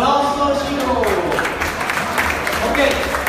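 Students at a kizomba dance class in Lisbon applaud, a brief burst of clapping while voices talk and music plays.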